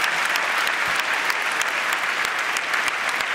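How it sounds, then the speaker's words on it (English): Large audience at a public debate applauds warmly, a dense, unbroken wash of clapping held at a steady loud level for the whole stretch. "Let's give them a big round of applause for a terrific debate"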